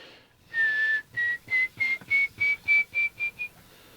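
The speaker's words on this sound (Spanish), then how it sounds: "tenemos que silbar llamándole" A person whistles a long tone, then a quick series of about ten short, rising whistles in a steady rhythm, clear and close, calling river dolphins in the Peruvian jungle.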